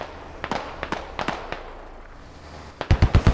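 Sharp shots ring out in Squad during a long-range firefight, with scattered single cracks early on, then a quick burst of four or five heavier reports close together at the end.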